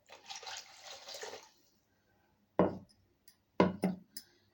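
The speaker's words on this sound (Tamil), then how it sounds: "இப்போ அப்படியே மிக்சியில் கொஞ்சம் தண்ணி ஊற்றிக்கலாங்க." Water is poured into a mixer jar while pineapple rasam is prepared, a short gurgling pour followed after a pause by a few separate splashing knocks, close and moderately loud.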